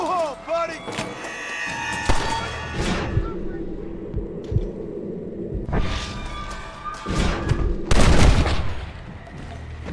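Gunfire in Red Dead Redemption: several sharp, booming shots ring out at irregular intervals over a murmuring game soundscape, the loudest cluster arriving near the end.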